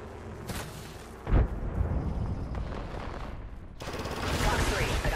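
A frag grenade goes off in the Apex Legends video game, a single sudden heavy blast about a third of the way in, set amid steady gunfire and battle noise that swells again near the end.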